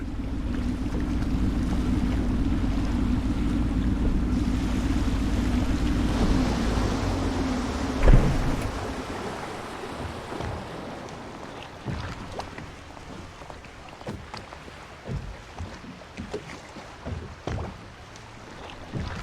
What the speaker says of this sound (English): Oh, I should concentrate on piloting this boat.